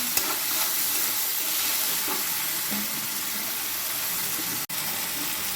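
Potatoes going into a frying pan for a prawn and potato dish, giving a steady, even sizzle of hot oil throughout with a few light stirring clinks, then a brief dropout near the end; no one speaks.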